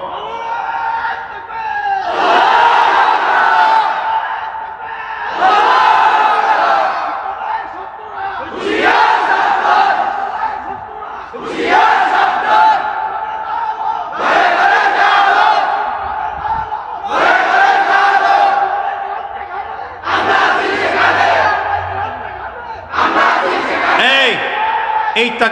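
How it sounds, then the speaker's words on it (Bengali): At a religious sermon, a large crowd chants the takbir, Allahu Akbar, in loud, repeated call-and-response waves with a steady rhythm, one surge every few seconds. "ভালো তাকবীর দিতে পারেন এমন একটা যুবক দেখে দাঁড়ায় তাকবীর দাও তো মিয়া"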